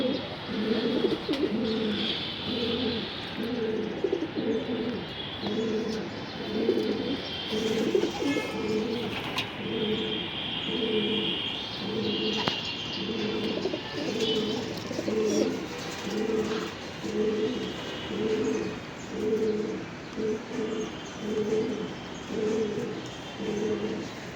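Pigeons cooing in a rooftop loft, a regular repeating series of low throaty coos continuing throughout, close and clear, with faint background noise and occasional higher chirps.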